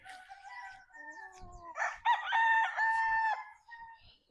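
A gamefowl stag of the Pure Paul Spark Gray line crows once, a loud close cock-a-doodle-doo rising and holding before trailing off, after a few preliminary squawks.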